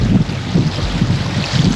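Gusty wind roars steadily across the microphone aboard a sailboat in Glacier Bay, Alaska, in loud, continuous buffeting with low rumbling pulses and no voices.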